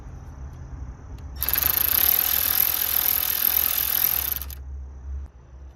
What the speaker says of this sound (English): we're going to take our 10mm socket and loosen these rods